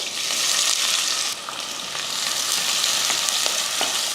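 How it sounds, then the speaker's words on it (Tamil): Onion sautés in oil with whole spices such as fennel, star anise, cinnamon, cloves, cardamom and curry leaves for a mutton dish, giving a loud, steady, close sizzle with faint stirring scrapes and no voices. "வெங்காயம் வந்து நல்லா வதங்கிடுச்சு"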